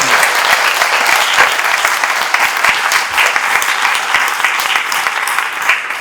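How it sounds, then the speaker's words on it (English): An audience applauds Scout leaders at an Eagle Court of Honor, with sustained dense clapping from a sizeable crowd, loud and steady for the whole stretch. "a round of applause for all of our Scout leaders"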